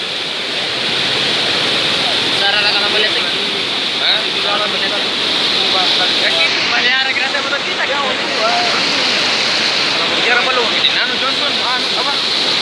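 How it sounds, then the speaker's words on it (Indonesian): A swift, roaring flash-flood river current surges through a housing estate in Enrekang, a loud continuous rush of churning water with faint voices mixed in. "akses untuk masuk ke dalam sangat berbahaya jika ditembus karena derasnya aliran sungai"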